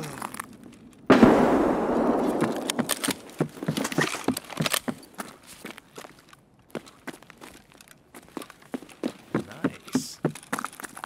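A grenade goes off in Escape from Tarkov with a sharp, loud broadband burst that rolls off over about a second, followed by scattered clicks and footstep-like thuds in a dark interior.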